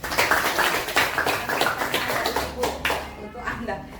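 A classroom of students claps hands together, a dense, lively patter of many claps that carries on for a few seconds before fading toward the end.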